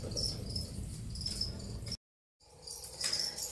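A feeder cricket for a pet tarantula chirps steadily and fairly faintly at close range, broken by a brief gap of silence before the chirping resumes.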